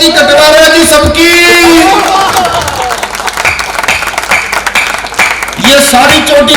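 Audience at a Karol Baag comedy poetry event bursting into loud, sustained applause and cheering, with a performer's raised voice carrying over the clapping at the start and end.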